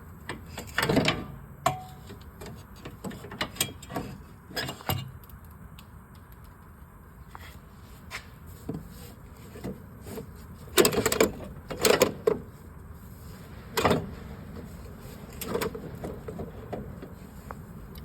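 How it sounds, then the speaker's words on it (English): A stuck sway bar bushing cap is pried up on a Chevy Cobalt, giving scattered close metallic knocks, creaks and scrapes in irregular bursts over a quiet background. "Oh, it's kind of stuck. I'm gonna have to pry it up."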